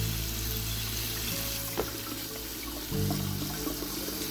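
Tap water runs steadily over freshly foraged dandelion greens being rinsed in a sink, a close continuous splashing wash with a brief clatter and a slight change in flow partway through.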